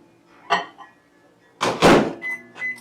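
A microwave door thunks shut with a short, solid clunk, followed by a few soft clicks and beeps nearby.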